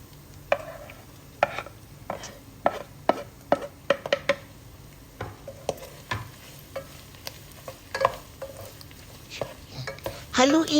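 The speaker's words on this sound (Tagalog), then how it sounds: "Haluin lang natin sila ng haluin hanggang maluto." Onion, garlic and chili being stirred in a frying pan for bagoong alamang with pork, with repeated scraping spoon strokes over a steady low sizzle, the clatter sharpening near the end.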